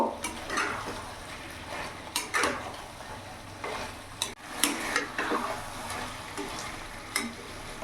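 Chicken with Kashmiri chili powder being stir-fried in a pan, a spatula scraping and clattering in irregular strokes over a low sizzle, close and alone.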